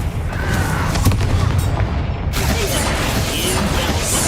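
A Confringo explosion spell cast in a video game: a loud booming blast with rumbling low end and mechanical crackle, followed by a brief dropout and continued rumbling debris, heard up close without speech.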